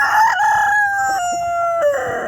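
Backyard roosters kept on a rooftop crow in long, drawn-out calls, loud and close, with several overlapping voices and no talk over them.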